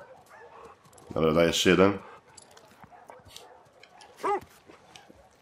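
A dog in The Last of Us Part II lets out a short burst of whiny, yipping barks and later a single high whimper, with someone talking casually in Polish over and between the sounds.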